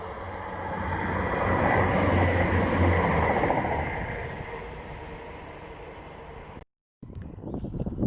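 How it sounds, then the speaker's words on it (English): A Class 150 diesel train rumbles past nearby, its roar swelling then fading as the carriages roll by, followed by a brief cut and renewed noise. "here comes the next train coming from Chester for Transport for Wales. And it's a Class 150"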